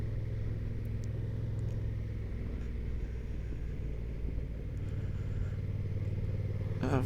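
A Honda NT1100 motorcycle cruises along a road with a steady low engine rumble and a constant rush of wind, even and unbroken throughout, heard from the rider's position.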